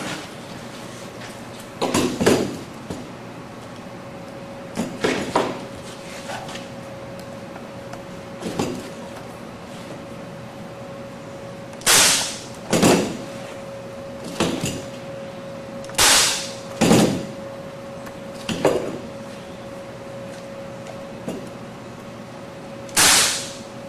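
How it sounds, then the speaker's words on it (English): A staple gun drives staples through a cover on a cannon build, giving sharp, isolated clacks at irregular intervals over a steady hum, some in close pairs, with no talking. "Hook the staple gun back up."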